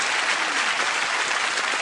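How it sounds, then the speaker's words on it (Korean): A church congregation at a special dawn prayer service claps in steady, dense applause that fills the whole moment at full volume, with no one speaking over it. "우리 한 번 더 박수로 격려해 주세요."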